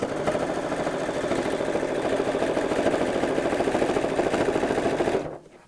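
A sewing machine stitching a straight seam along a woven fabric cushion cover, a steady close rapid whir that runs for several seconds and then stops abruptly.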